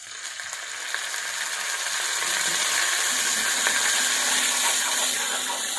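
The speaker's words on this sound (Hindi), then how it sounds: "अब मैं सोया सॉस डालने लगी हूँ 2 चम्मच" Steady, loud sizzling and crackling as two spoons of soy sauce hit a hot pan of onion and paste, building slightly and holding for several seconds.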